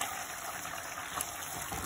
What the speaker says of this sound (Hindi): इसमें हमने एक स्पून कॉर्नफ्लोर पानी में मिक्स करके ये ऐड करना है।